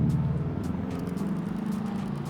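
Cars passing on a road, a steady low engine and tyre rumble that swells gently as vehicles go by, fairly close and continuous with no talk.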